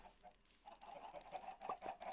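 Chickens clucking in Minecraft, soft repeated short clucks in an irregular run, fairly faint and heard alone.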